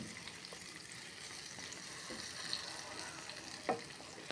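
Chicken sizzling in a pan for chicken afritada, a steady, soft frying hiss with faint stirring clicks and a brief clatter near the end, no voices.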